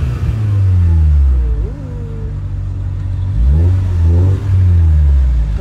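A car engine revving and accelerating up through the gears, loud and close, with rising engine pitch, a dip between shifts, then another strong surge of acceleration.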